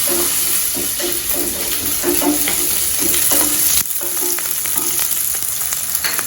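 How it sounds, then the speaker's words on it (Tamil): Onions sauté in a hot pan with fried urad dal for sambar, giving a steady, loud sizzle with stirring scrapes throughout and a brief drop in intensity partway through. "வெங்காயம் கொஞ்சம் வதங்கட்டும்"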